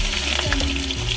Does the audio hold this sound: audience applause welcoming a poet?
no